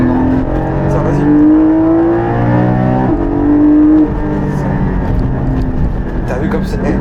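Porsche 718 Cayman engine pulling hard at full throttle, a loud, steady rising drone with climbing harmonics through two gear stretches and a brief shift dip near three seconds, with people talking over it inside the car.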